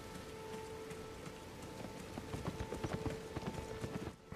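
Horse hooves clip-clopping in Elden Ring, a steady rhythmic trot of close, crisp footfalls that grows louder toward the end over a low game ambience with a faint tonal hum.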